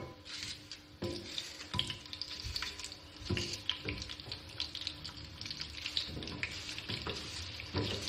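Chopped onions frying in oil in a pan, a soft continuous sizzle with scattered crackles and occasional stirring scrapes, fairly quiet and without talk.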